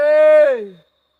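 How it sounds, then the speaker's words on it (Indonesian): Out in the forest, one loud, clear tonal call with a strong harmonic stack holds steady for about half a second, then bends downward and fades, heard close with nothing else around it. "Suara burung."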